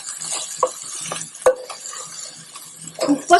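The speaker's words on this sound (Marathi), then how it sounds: "चवीपुरतं मीठ कोथिंबीर आणि छान सगळं परतून घेणार आहे" Prawn pulao masala with salt and coriander stir-fried in a pan, quick spoon scrapes and clinks against metal over a faint sizzle, close and intermittent.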